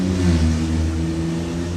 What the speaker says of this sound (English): It was an awfully loud car.